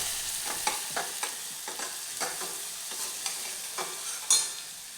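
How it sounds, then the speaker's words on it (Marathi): Ground masala paste for kadhi frying in hot oil, with a soft steady sizzle and repeated spoon stirs scraping the pan at an irregular rhythm, close up and without talk. "वाटण तेलात छान फ्राय करून घ्यायचे आहे."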